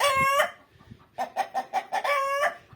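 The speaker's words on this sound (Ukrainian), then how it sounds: "Розрепетувався півень." A rooster crows nearby, starting mid-call, then a quick series of short clucking notes leads into a second full crow.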